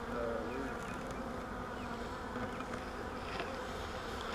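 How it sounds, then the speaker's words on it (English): Dense, steady buzzing of many bees swarming around a nest, close and continuous for the whole stretch, with no pauses. "there's a bunch of bees in that thing"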